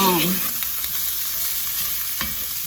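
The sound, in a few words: stirring homemade chili ingredients in a pot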